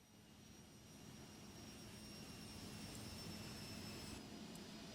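A steady, faint jet engine drone from an Epic E1000 in a flight simulator game hums evenly without pause, rising slightly in level early on.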